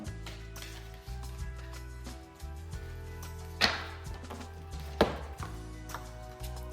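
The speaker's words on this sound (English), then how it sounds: "I'm gonna chop these cards, and away we go" A deck of tarot cards is shuffled and cut in a steady series of soft chopping taps, with two sharper slaps standing out, close and fairly quiet over a low background hum.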